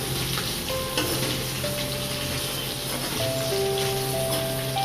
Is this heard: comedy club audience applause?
no